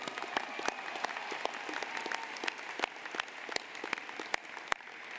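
A graduation convocation audience applauds a student speaker, sustained crowd clapping with sharp individual claps standing out, fairly distant and filling the whole stretch without voices on top.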